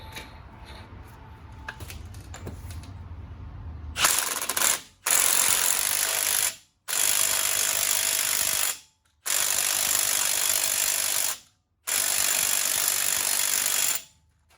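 An impact wrench tightens a washer and nut on the CV axle of a 2009 Chevy Silverado 1500 4x4, firing four loud, near, hammering bursts separated by brief pauses after a quieter stretch of handling.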